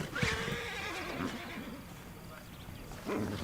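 A horse in Red Dead Redemption 2 lets out a short whinny near the start, followed by a steady game-world backdrop with a voice talking over it.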